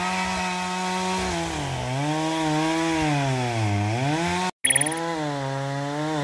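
Chainsaw cutting slab wood for a raised bed build, a loud close engine whine rising and falling in pitch under load with a brief cutoff before it roars again.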